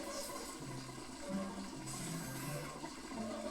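In the Luigi's Mansion 2 HD video game, a water-powered generator runs with a steady, loud rush of flowing water and a low mechanical hum throughout, and no voices over it.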